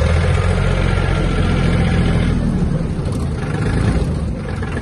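A Yanmar EF-222 mini tractor engine drones loudly and steadily up close while the machine is driven, a continuous low rumble with no talk.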